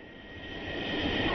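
A MiG-27 fighter jet flies during its farewell flight with the Indian Air Force, a steady broadband roar that slowly swells louder as the aircraft approaches.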